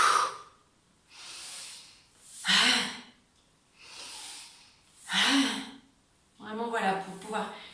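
Forceful breathing exercise: a person takes repeated sharp, audible inhalations and strong, loud exhalations in a steady rhythm, close to the microphone, with a voice joining at the end.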